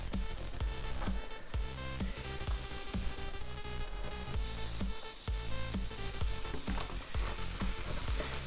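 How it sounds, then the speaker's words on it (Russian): Peppers sizzle as they fry in a pan for shakshuka, a soft, continuous crackle heard faintly under background music. "отправляем сюда обжариваться перец"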